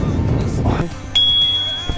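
A bicycle bell rings once with a bright, sustained metallic ding that fades slowly. It follows a burst of rustling, moving-air noise and is heard outdoors with no talking.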